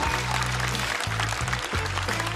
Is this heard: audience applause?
yes